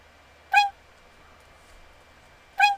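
Two short, high-pitched homemade squeaky sound effects from a C-programmed platform game, each a brief harmonic chirp about two seconds apart over a faint steady hum.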